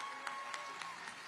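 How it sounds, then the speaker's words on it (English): Faint, distant crowd applause at Orlando's 2023 Christmas tree-lighting ceremony at Lake Eola, with a steady clapping wash and a few sharper claps standing out at a regular pace. "Can we give them another round of applause?"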